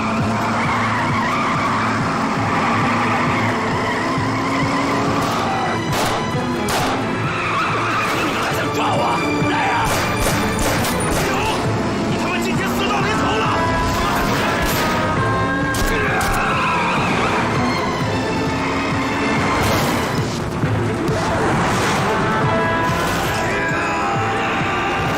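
Cars grind and scrape against each other during a gunfight car chase in a mafia action film, with loud continuous engine roar, tire skids and sharp impact bangs layered throughout.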